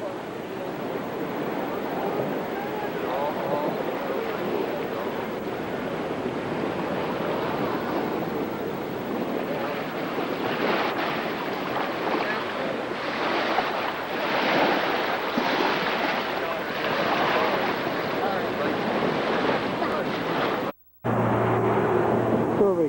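Ocean surf at Ki'i Beach on Kauai, Hawaii, rolling in a steady continuous wash with wind rumbling across the microphone and a brief dropout near the end.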